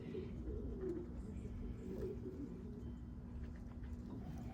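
Newly arrived imported racing pigeons coo in a low, steady murmur that runs throughout, close by, over a constant background hum of the loft.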